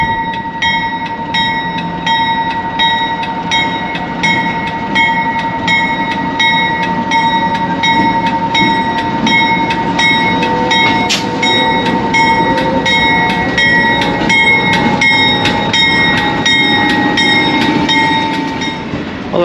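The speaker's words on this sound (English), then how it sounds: "here comes the train now." A northbound train passes through Alice Springs, its loud horn sounding in a long, steady blast while the wheels beat out a rhythmic clatter close by.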